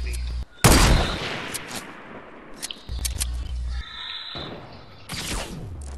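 Sniper fire in a video game: a few sharp, loud shots crack out among muffled game noise, with a heavy blast near the start and another burst toward the end.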